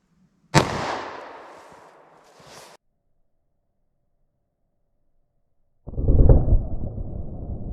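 A .38 Special +P Hornady Critical Defense round is fired from a snub-nose revolver into MDF, a single sharp loud report with a decaying echo, then silence and later rustling handling noise.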